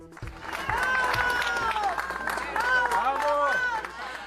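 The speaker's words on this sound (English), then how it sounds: "People cheering as first responders in Venezuela carry an injured man out on a stretcher" Voices in a crowd cheer and shout with rising and falling tones over scattered clapping as first responders carry an injured man out on a stretcher after back-to-back earthquakes in Venezuela.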